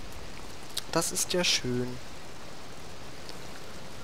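Steady rain hisses through a rainy scene in the video game GTA 3, a constant even wash from start to finish, with a short stretch of speech over it near the start.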